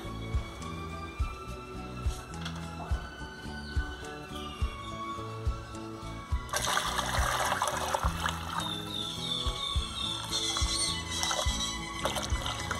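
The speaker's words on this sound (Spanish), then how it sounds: "vamos a agregar agua." Water poured from a container into a cooking pot of broth with chiles and bones, a steady splashing stream that grows fuller and brighter partway through, with faint thuds and clinks beneath.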